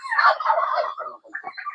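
A turkey gobbles in a rapid, warbling burst that is loud and close, then gives a few shorter broken calls, with no voices.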